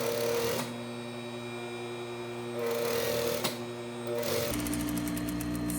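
A sewing machine stitching a quarter-inch seam along a bodice edge runs in three bursts of whirring motor hum with brief pauses between them, close and fairly loud with no talk.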